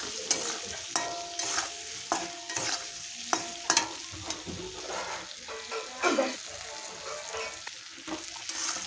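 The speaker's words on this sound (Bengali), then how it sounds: "এখন ভালো করে আমি ভেজে নেব মশলা দিয়ে।" Potatoes fry with salt and turmeric in a pan for a pangas fish curry, giving a close, steady sizzle broken by repeated scraping stirs, with no talking.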